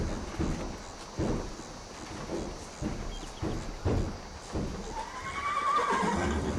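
Horses whinny and their hooves clip-clop at a steady walking rhythm in a 1935-era ranch farming game, the hoofbeats evenly spaced and a drawn-out neigh rising near the end.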